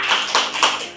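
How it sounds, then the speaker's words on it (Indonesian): A teacher claps her hands in a rhythmic pattern, three sharp, close claps spaced evenly within a second, with no talking. "Sekarang Ibu Guru punya tepuk. Tepuknya seperti ini."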